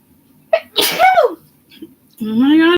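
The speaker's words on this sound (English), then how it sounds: "I've been sneezing every day too." A single loud, close sneeze bursts out abruptly, followed after a short pause by a drawn-out vocal groan or sound from the same person.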